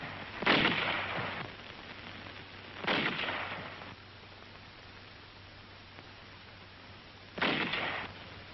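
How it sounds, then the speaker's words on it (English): A 75mm pack howitzer fires three times at uneven intervals, each shot a broad noisy boom with a short decaying tail over a steady low hum. "the highly mobile 75mm pack howitzers delivered continuous fire to the north"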